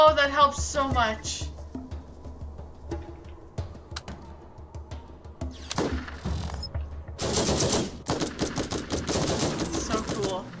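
Gunfire in the video game Borderlands, rapid bursts and single shots crackling over game sounds, getting louder and denser toward the end, with people talking over parts of it.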